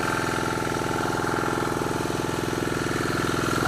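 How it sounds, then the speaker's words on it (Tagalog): A steady engine idles close by, a constant low rumble with a fast, even chugging pulse and no voices. "Inantar ko na yung makina."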